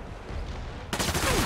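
Gunfire in the Spider-Man Remastered video game, a quiet ambient stretch giving way to a sudden burst of loud, dense shots for the last half second or so.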